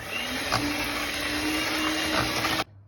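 An electric hand mixer whisks jam, such as apricot, for a homemade kovryzhka cake, giving a steady, even motor whir that runs unbroken for over two seconds and then cuts off abruptly.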